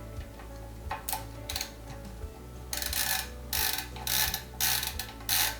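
Small screws being driven into threaded holes on a Prusa MK4 3D printer part, giving repeated ratcheting clicks from a close driver in short bursts with brief pauses between turns.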